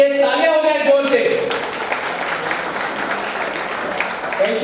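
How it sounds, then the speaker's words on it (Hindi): Hall audience applauds loudly for the Thari Lohana community at an annual function in Ahmedabad, a dense, steady clapping that starts over a fading musical tone and a voice, then carries on evenly to the end. "तो एक बार थरी लोहाड़ा समाज के लिए तालियां हो जाए जोर से।"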